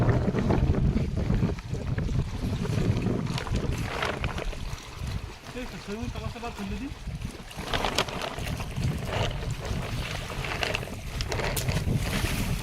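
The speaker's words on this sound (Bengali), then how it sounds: "নদীতে নদীতে কিন্তু প্রচণ্ড হাওয়া হচ্ছে কথা কতটুকু শোনা যাবে বলতে পারবো না" A strong wind gusts over a river in the Sundarbans and roars continuously against the microphone. A boat's hum and water noise mix in, and the sound dips briefly near the middle.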